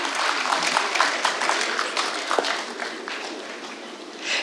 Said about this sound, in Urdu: زوردار تالیوں سے ایک بار ان کا استقبال کیا جائے